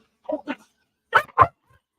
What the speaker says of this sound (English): He's growling.